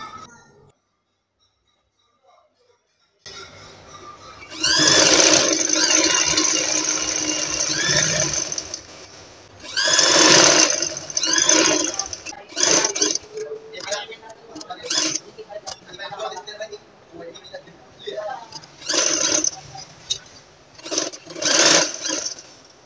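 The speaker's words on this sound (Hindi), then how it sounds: "तो अब हमने इस तरह से इसको सिलाई लगा लेना है" A sewing machine stitching piping onto a kurti neckline, running in loud close whirring bursts with short pauses between runs, after a few seconds of near silence at the start.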